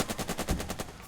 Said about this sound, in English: it's still 6 if I just shoot the machine gun